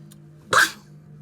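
A single short sneeze, sharp and fairly close, standing out against a low steady hum.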